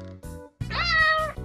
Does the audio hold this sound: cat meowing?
yes